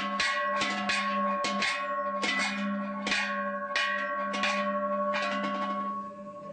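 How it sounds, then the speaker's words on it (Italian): A cowbell hung on a cow in rural Calabria rings repeatedly in uneven clanking strokes, close and fairly loud, with metallic overtones ringing between hits and no talk. "Oh, vedi bella campana."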